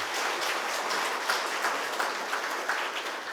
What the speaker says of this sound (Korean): 축하의 의미로 큰 박수 부탁드리겠습니다.